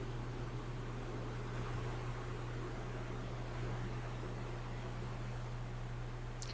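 An embroidery machine sews a satin stitch over the raw edge of a quilted in-the-hoop bag tag, a quiet, steady mechanical hum with a constant low whir and faint rapid stitching texture throughout.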